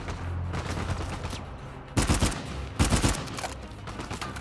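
Gunfire from the video game Uncharted 4: A Thief's End comes in rapid bursts of automatic shots, with two loud volleys standing out over continuous battle noise and no talking.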